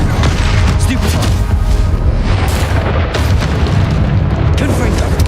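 Stupefy spell cast in Hogwarts Legacy, a dense, continuous rumble of booming magical impacts and bursts filling the clip, loud and close with no clear breaks, amid a busy game battle.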